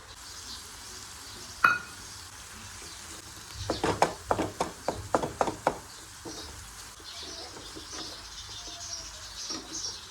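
Paneer bhurji cooking in masala in a pan, a soft sizzle under a quick burst of spatula clacks and scrapes in the middle, plus one sharp knock earlier, with no talking.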